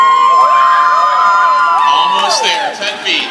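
A crowd cheers and whoops for a climber going over the edge, excited shouts rising and falling in a short burst, with voices close by.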